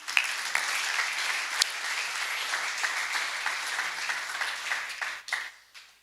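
Audience applause at a press and launch event for the Olís and Grill 66 handball leagues: a sustained, even wash of clapping from a seated crowd that thins and fades out near the end.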